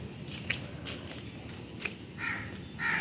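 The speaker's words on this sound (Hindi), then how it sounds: "चले जी, कौवे आ गए हैं" Crows calling outdoors near a house wall where food is set out, a few short caws at around half a second and near two seconds, then fainter calls over a steady background hiss.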